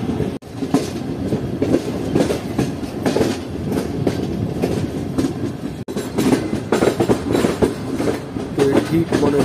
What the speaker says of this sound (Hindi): ठीक 2 बजे ट्रेन एंटर हो रही है रोड़ी जंक्शन रेलवे स्टेशन पर।